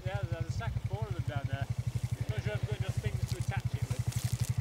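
A quad bike engine chugs in a steady, fast, throbbing rhythm close by while dragging tyres through bracken, with people talking over it throughout.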